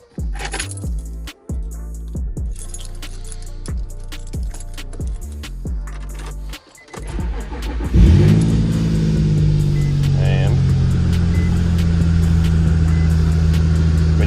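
A Nissan Z engine cranks and catches after a few seconds of key jangling and clicks, then settles into a steady, loud idle close by while its coolant system is being bled.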